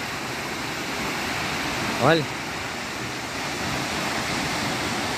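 Tall waterfall, about 140 metres high, roaring as a steady broadband rush from nearby with no break, while a voice speaks briefly over it.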